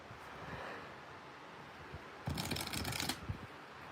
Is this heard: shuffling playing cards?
yes